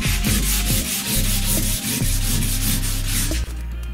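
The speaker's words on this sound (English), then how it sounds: "Orbital sanders are a great help doing this type of work" Orbital sander grinding a car body back to bare metal to stop rust, a steady close abrasive rubbing with rhythmic pulses that runs throughout, with no talk.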